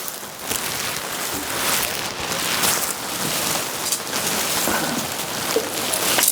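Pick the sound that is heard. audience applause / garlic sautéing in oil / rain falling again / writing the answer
rain falling again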